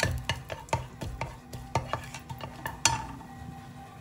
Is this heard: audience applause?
no